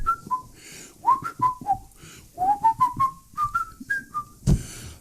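A whistled rendition of a song: a clear, lilting melody of short sliding notes over a faint murmur of background noise, with a soft thump near the end.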